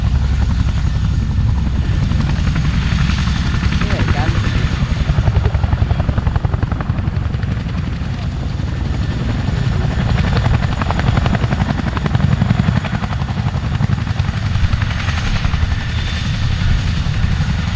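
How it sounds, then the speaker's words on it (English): Chinook tandem-rotor helicopter landing at an air display, a loud, steady, close rotor roar and whine that holds throughout with no talk. "you'll see the tandem rotors of the Chinook used to bring the aircraft to a complete stop"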